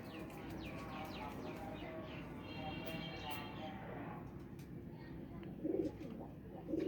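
A pair of Ferozpuri pigeons coos softly with low throaty calls near the end, under someone speaking Punjabi-Hindi and faint chirps from other birds.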